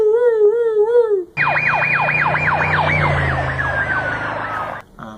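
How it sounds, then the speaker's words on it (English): An emergency siren wails in fast rising-and-falling cycles, loud and close, then its pitch slides steadily lower as it passes and moves away, the Doppler shift clear before it cuts off abruptly. "if you want to think of it in terms of a siren, it would go, woo, woo, woo"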